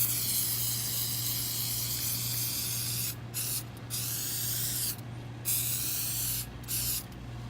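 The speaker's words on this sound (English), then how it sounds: "now we're going to put the developer on there." Aerosol can of dye penetrant developer sprayed onto a weld, a steady close hiss broken by several short pauses between bursts.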